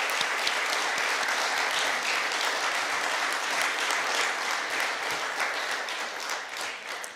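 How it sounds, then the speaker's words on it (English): Sustained audience applause following a Black History Month keynote lecture, a broad, steady patter of many hands filling the room, tapering off slightly at the end. "I think that deserves another round of applause."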